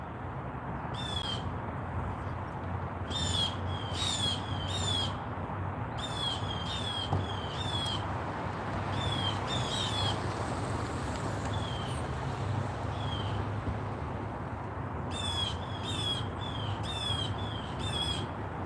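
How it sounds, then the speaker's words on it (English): Repeated harsh, squawking bird calls come in short bursts over a constant low rumble of background noise, some calls in quick clusters. "Y'all hear them birds?"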